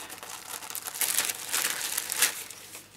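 A scrap of cardstock being pulled from a folder makes close, crinkly paper rustling and sliding in uneven bursts over a few seconds.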